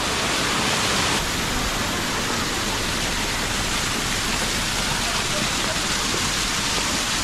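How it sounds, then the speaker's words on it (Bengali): A waterfall cascades down rocks at Rock Garden in Darjeeling, a loud, continuous, dense roar of rushing water that fills the whole scene without letting up. "আর কত উপর থেকে দেখুন জল নেমে আসছে।"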